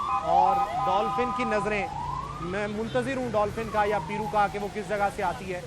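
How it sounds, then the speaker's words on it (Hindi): In the street an ambulance siren sweeps in long, slow rising and falling wails, moderately loud, while someone talks steadily over it. "एम्बुलेंस के सायरन आप सुन सकते हैं"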